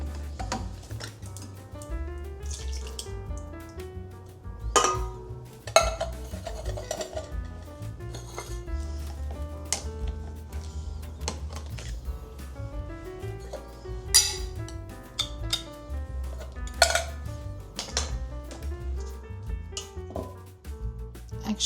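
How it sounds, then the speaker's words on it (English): A spoon stirring crushed tomatoes and sugar in a cooking pot, giving light irregular clinks and scrapes of metal against the pot, fairly close and continuous, with no talking. "I'm going to put the crushed tomatoes in it and a little bit of sugar and stir it all up"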